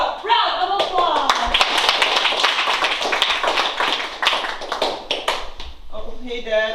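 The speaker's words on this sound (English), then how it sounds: "After a warm round of applause." A live improv audience breaks into a warm round of applause, dense clapping holding steady for several seconds before fading as a performer starts speaking near the end.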